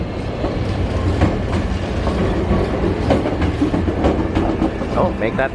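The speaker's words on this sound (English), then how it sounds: "Two trains leaving at the same time right now" Two Osaka monorail trains depart a station at the same moment, a loud, sustained rumble with rhythmic clickety-clack and occasional light squeals close by.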